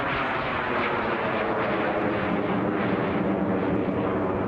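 A Strikemaster jet trainer with a Viper engine flying in pairs formation at the 2019 Southport Air Show, giving a loud, steady, broad jet roar that holds without a break.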